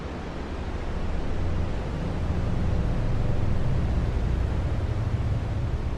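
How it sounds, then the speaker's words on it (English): Dense, steady white noise fills the space as a sound effect in a radio piece, a broad, even hiss that swells slightly at first and then holds constant and alone. "White noise boring through the taffy stretch of nascent space."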